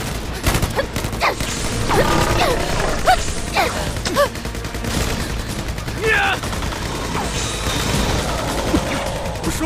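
Rapid bursts of gunfire crack through a frantic action-movie scene in a giant-spider disaster film, several sharp shots spread across the moment amid loud commotion and shouting voices.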